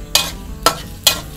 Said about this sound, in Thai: เราก็ใส่น้ำมันลงไปก่อนค่ะเจียวกระเทียมให้หอมก่อนนะคะ